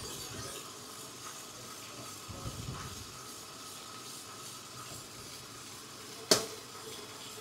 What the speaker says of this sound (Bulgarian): И ще налея маслото